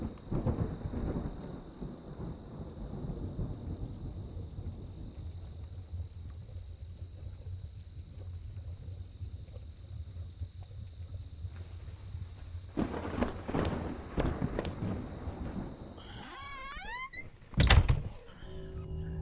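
Low rolling thunder rumbles under steady rain and a faint whining insect-like hiss in an eerie night scene from the horror game Home, ending with a sudden sharp knock or thud near the end.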